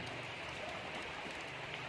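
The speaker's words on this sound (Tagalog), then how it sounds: "Ulan." Steady rain falls without a break, a dense even patter with no clear individual drops, moderately loud and close, and no one speaks over it.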